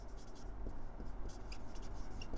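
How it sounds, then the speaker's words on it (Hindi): A definition being written out during an economics lecture, with faint continuous scratchy writing strokes over a steady room hum. "आइए डेफिनेशन लिखते हैं इसकी।"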